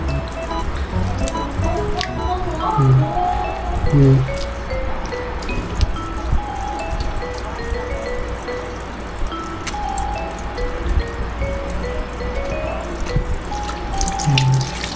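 Raw chicken being washed by hand under a running tap in a kitchen sink, with steady water flow, wet squishing and handling noises throughout, fairly close and loud.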